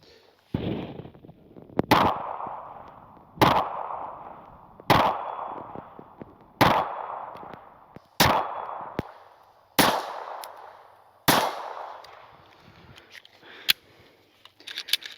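Seven sharp Glock 42 pistol shots ring out at an outdoor range, fired at 22 yards and spaced roughly every one and a half seconds, each a loud crack trailed by a fading echo.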